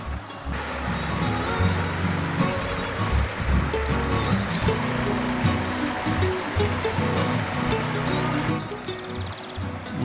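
A small forest stream, a trout brook, flows in a steady close burble on a windy day, with low rumbling gusts underneath and no talking.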